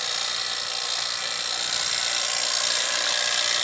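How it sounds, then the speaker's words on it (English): A vacuum pump evacuates the refrigerant line of a relocated Fujitsu mini split, giving a steady, close, high-pitched mechanical whine and hiss with no talking. "I'm pulling a vacuum on it."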